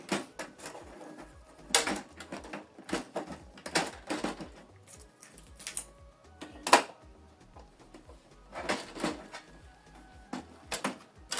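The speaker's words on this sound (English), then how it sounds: "If you want to close this printer, you need to lift it up." An Epson EcoTank ET-2876 printer's cover is lifted and closed, giving a string of plastic clicks and clunks spread irregularly over several seconds.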